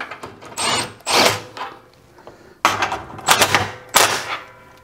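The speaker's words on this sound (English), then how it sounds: "I'm going to use the impact." Impact driver hammering bolts tight on a modified Harbor Freight 30-inch sheet metal brake, four loud bursts of rapid rattling impacts separated by short pauses, close to the mic.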